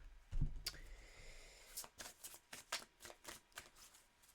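Oracle cards shuffled by hand in a series of quick papery riffles and slaps, close and fairly soft, with no voices.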